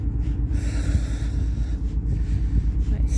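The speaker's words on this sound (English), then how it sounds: "There's another boat there, and that's the noise." A boat engine drones with a low, steady rumble, throbbing continuously, with wind buffeting the microphone on top.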